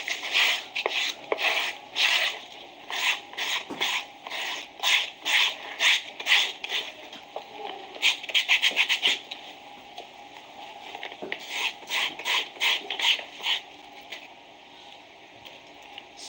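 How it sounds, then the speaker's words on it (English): A shoe welt roughened with a very rough tool, quick rhythmic scraping strokes in fast bursts with brief gaps, close and fairly loud. "Roughen your welt as well."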